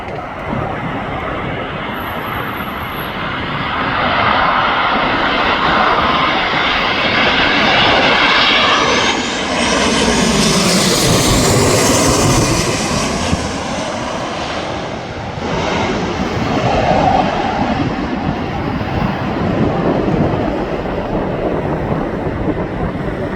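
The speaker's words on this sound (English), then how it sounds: "how about the smallest offering of Boeing that comes into Manchester Airport on a daily basis?" A Ryanair Boeing jet at Manchester Airport produces a loud, sustained engine roar that swells and sweeps in pitch as it passes close by, then fades into a lingering rumble.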